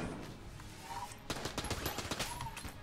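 Rapid bursts of AK rifle fire in the video game Enter the Gungeon crackle at moderate volume, with dense clustered shots in the second half.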